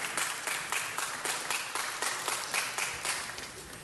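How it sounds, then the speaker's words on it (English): Applause from an audience at a city council meeting, a steady run of claps at moderate distance with no one speaking over it. "let's give them another round of applause"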